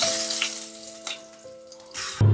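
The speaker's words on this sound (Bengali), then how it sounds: "আমি জাস্ট 30 সেকেন্ড থেকে 40 সেকেন্ড মতো মাছগুলোকে এপিট ওপিট করে ভেজে নিয়েছি।" Koi fish fry in oil in a pan, a soft, steady sizzle close by with a few light scrapes. A louder burst of sizzling comes near the end.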